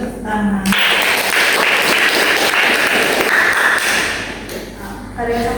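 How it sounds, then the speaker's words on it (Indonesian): Brief burst of classroom applause, many hands clapping together for several seconds, loud and close, with a voice speaking just before it starts. "Tepuk tangan."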